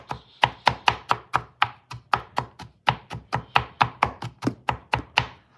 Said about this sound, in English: So I want it minced up a little bit more, very fine. So mincing.